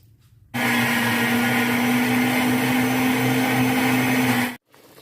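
A blender grinds baked onion, carrot, pepper and eggplant in a loud, steady motor whine lasting about four seconds, starting abruptly and cutting off sharply, with no voices.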